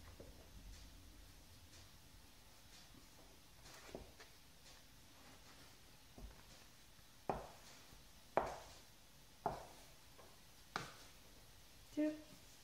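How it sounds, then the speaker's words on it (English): A metal spatula chopping baguette dough into four pieces on a work surface, several distinct soft thuds spaced a second or so apart, growing more distinct toward the end, with quiet room noise between. "now I need to cut it in 4 pieces, more or less the same size. I'm using the spatula to cut it."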